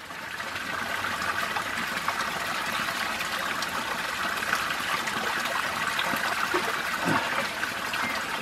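Water poured into a filtration canteen, filling it toward the top: a steady, continuous splashing trickle close to the microphone that runs unbroken throughout.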